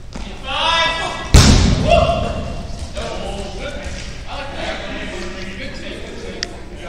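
A dodgeball match in Winnipeg: one sharp, close thud of a ball striking, followed by softer bumps, all under an excited commentator talking throughout.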